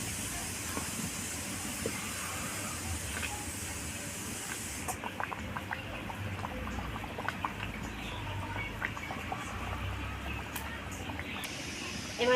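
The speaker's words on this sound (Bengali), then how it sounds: "এবার মাছ দেওয়ার পর ঝোলটাকে ফুটতে থাকুক" Fish curry gravy bubbles in a pan after fried fish pieces go in, giving a steady close hiss of boiling with scattered soft pops and patters, and a voice speaks faintly over it.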